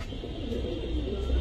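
A short burst of deep, guttural cooing comes from Giribaz koel-bear pankhi pigeons in a dealer's loft, low and near, murmuring steadily without any voices.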